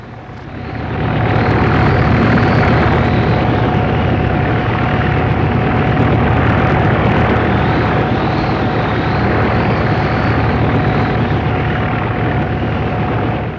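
A loud, steady helicopter drone with a whirring rotor throb, close and continuous throughout, no voices.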